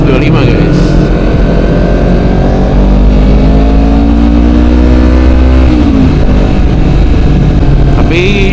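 A Kawasaki ZX25 motorcycle engine revs loud and close, its harmonic pitch sliding up and down through sustained throttle sweeps, dropping briefly near the sixth second before climbing again at the end.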